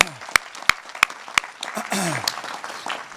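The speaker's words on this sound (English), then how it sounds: "Let's give them another round of applause." At a university commencement ceremony, loud individual claps ring out near the microphone over a crowd's applause, while a voice cheers and calls out above the clapping.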